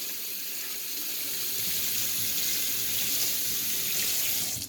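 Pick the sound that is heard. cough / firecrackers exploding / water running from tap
water running from tap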